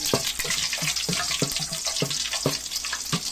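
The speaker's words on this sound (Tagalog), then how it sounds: "gisa na natin guys ang ating lutuing gulay" Spinach with sardines and lemongrass sautés in a hot pan, a dense, bright sizzle punctuated by regular clacks of a spatula stirring against the metal, close up with no voices.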